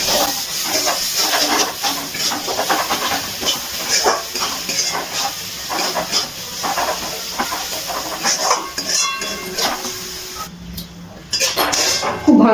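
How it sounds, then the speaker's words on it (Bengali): Spices with salt and chili paste being stirred and fried in a pan for a country chicken curry, with a steady sizzle under repeated scraping and clinking of a utensil against metal, pausing briefly near the end. "এবার খুব ভালো করে মশলাগুলো একসাথে মিশিয়ে তারপরে ভালো করে কষিয়ে নিচ্ছি"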